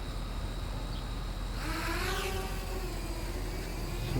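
Motors of a Blade 200QX quadcopter spin up from a low hum into a rising, whining whir with climbing tones, then settle into a steady drone close by; no speech.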